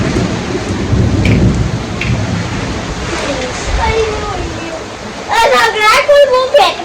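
Heavy rain pours steadily with a low rumble of thunder, loud and close, while someone talks over the downpour in the latter part.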